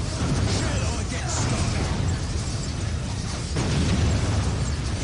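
Deep booms from a big cannon firing in Dawn of War: Dark Crusade, with Imperial Guard forces, sit inside a dense, continuous wash of loud battle noise, with heavier bursts near the start and again midway.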